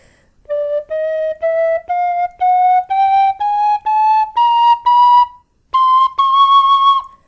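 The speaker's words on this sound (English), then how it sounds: "It isn't the loudest whistle, and that's actually why I like it." A Tony Dixon DX005 tin whistle plays a slow rising scale of clear, pure sustained notes, one after another with short gaps, then two higher held notes at the end.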